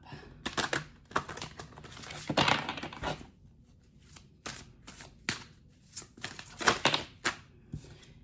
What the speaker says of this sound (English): I'm being told to shuffle it really good.